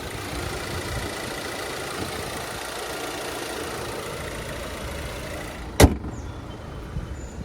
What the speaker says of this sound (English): 2-liter turbocharged 4-cylinder